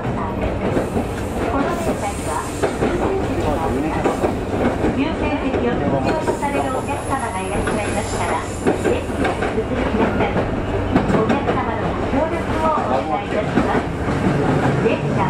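A train on the Sotobo Line runs over inland track with a steady rumble and rhythmic clickety-clack close by, continuous and fairly loud throughout.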